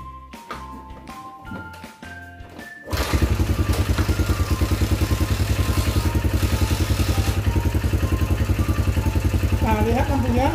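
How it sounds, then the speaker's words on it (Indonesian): A motorcycle is kick-started: a few thumps and beeps, then the engine catches and idles with a steady, rapid loud putter for the rest of the clip. "Kita engkol dulu mesinnya."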